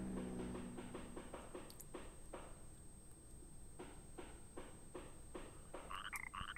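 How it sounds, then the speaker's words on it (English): A frog in the Chibi-Robo video game croaks in a series of short, rhythmic bursts over a steady background hum, with a few brighter game chimes near the end. "Here's a frog that looks dead."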